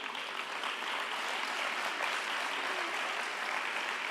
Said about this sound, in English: I would like to invite an applause for the program committee that worked so hard